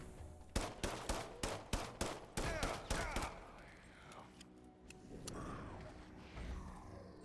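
Gunfire in the video game System Shock (2023): a rapid string of sharp, close gunshots in the first three seconds, then quieter mechanical creaks and rumbling hits.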